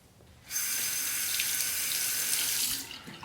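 A tap runs over a straight razor being rinsed, the water suddenly gushing in a bright, steady rush close by, then easing off near the end.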